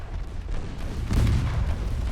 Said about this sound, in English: All guns, open fire